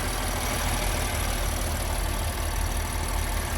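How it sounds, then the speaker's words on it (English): A 2019 BMW M4 engine idling under an open hood, with a slight ticking noted; a steady, loud, broadband hum persists evenly throughout, close up, without any voices. "I don't know if that's supposed to sound like that, like a little ticking, if you can hear it."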